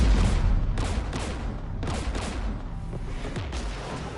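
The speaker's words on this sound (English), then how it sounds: "We're taking fire." Anti-aircraft guns firing in the Mass Effect 3 Legendary Edition video game, repeated heavy bursts of gunfire with booming impacts, loud and close, with no talking.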